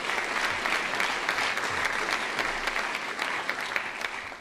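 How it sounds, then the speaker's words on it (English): An audience at a Northwestern University lecture claps in sustained applause, dense and even, with scattered sharper claps standing out and no speech over it. "So one last round of applause for her"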